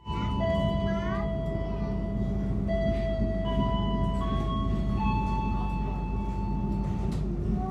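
The Sawunggalih executive train running from Kutoarjo to Pasar Senen, heard from inside as a steady, loud rolling rumble with a continuous low drone and shifting tonal whines, with faint voices in the background.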